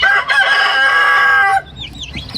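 Breeder chickens at feeding time on a farm, a rooster crowing loudly and close for over a second, followed by softer clucks and chirps from the flock.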